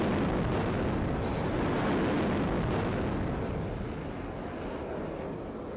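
A Tomahawk cruise missile launches from a warship on a firing range, a loud, sustained rushing roar that fills the whole clip and fades slightly toward the end, with no voices over it.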